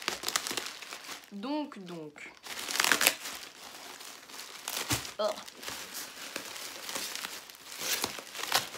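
Parcel packaging being cut open with scissors: plastic and paper crinkle and rustle close up in uneven bursts, with a short snipping and tearing noise, while someone speaks briefly.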